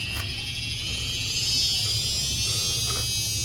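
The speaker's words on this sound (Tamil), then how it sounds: "ஃபேன் மோட்ரு ஓடுது, அப்புறம் ஆஃப் ஆகுது" A Panasonic split AC fan motor, non-inverter unit with a PCB on/off fault, gives a steady, close electric buzzing hum that holds without a break, and no one speaks.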